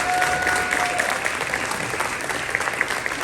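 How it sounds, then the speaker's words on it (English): Sustained audience applause for graduating seniors at a spring school concert and awards night, a dense steady wash of clapping from a full room, with a faint voice briefly audible beneath it. "how about one more round of applause for all our awesome seniors for this year"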